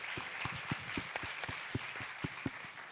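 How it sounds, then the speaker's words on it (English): An audience at a women's forum panel applauds, a quiet, fairly distant run of distinct claps with a soft crowd wash behind them. "You can hear the applause."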